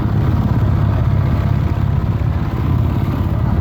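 A trawler boat's engine runs at a river ghat on Hatiya, a loud, steady low rumbling drone with a fast, even throb that holds without pause.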